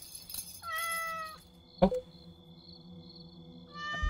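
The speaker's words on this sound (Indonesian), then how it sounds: "Ada kucing." A cat meows in the horror video game DreadOut 2, with several short rising calls early on and another near the end, alongside a sharp bang and ambient game tones.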